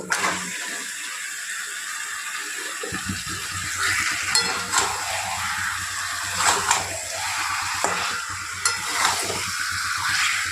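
Marinated chicken frying in masala on a gas stove: a continuous sizzle and spit, with scraping stirs and occasional pan clatter as the pieces are turned and cooked down. Close and fairly loud, with no talk.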